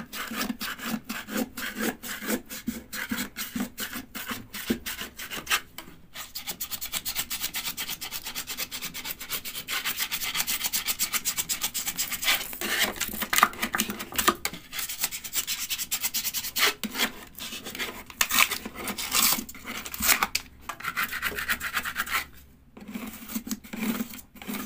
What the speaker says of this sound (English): I'm in the process now of removing this foam. I'll just free it up.